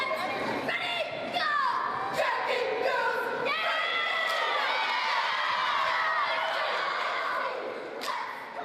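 Young spectators at a Lake Orion high school varsity cheer invitational shout and cheer in a loud, steady crowd roar with high squeals and whoops over the din throughout.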